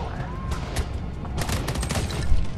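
Dense gunfire from a shootout in the video game Homefront: The Revolution, with overlapping shots and bursts crackling steadily and fairly loud throughout, with no speech.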